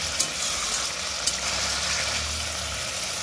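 Spices fry in a pan with a constant, fairly loud hiss and sizzle and a couple of sharp clicks, with no voices.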